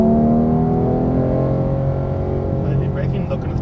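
Engine of a Porsche GT3 991 driving in Las Vegas, a loud, steady drone from inside the car with harmonics that rise gradually under throttle, while a voice talks over it.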